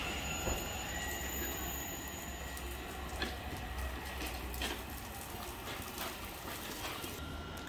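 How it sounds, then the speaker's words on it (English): A Thameslink train moves through Potters Bar station on the East Coast Main Line, its faint rolling rumble mixed with high wheel squeal and scattered ticking, heard from a distance without voices. "700028 is now departing with the late running 1502 Thames Link service to London King's Cross"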